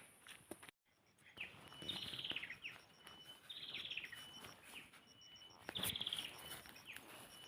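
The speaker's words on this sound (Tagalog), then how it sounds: "Yung ingay ng ibon." Several birds chirp in short, repeated phrases over a soft outdoor background, fairly faint and distant.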